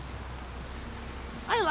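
Steady soft rain falling in the video game Wasteland 2, a faint continuous patter, ending with a brief burst of higher warbling sound at the close.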